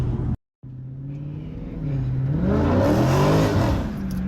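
An Infiniti G37 accelerates hard on a mountain road, its engine note climbing loudly and steadily in pitch after a brief cut, with tire slip and wheelspin as the car loses traction.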